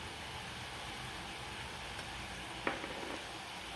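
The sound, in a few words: carrots and beans cooking in a pan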